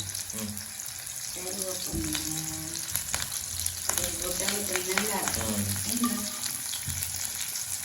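Onions sizzle steadily in a hot pan while a person talks over the frying, the crackle continuing in the background.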